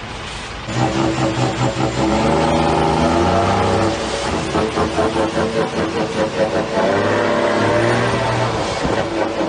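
A tractor engine revving hard, loud and close, with rising and falling harmonic whine over a steady rumbling drone that runs nearly the whole clip after a brief quiet start.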